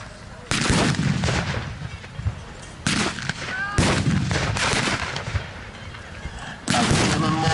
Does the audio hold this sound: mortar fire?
yes